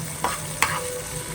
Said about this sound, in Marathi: आता स्लो फ्लेमवर परत आपण याची मस्तपैकी फोडणी करून घेऊ.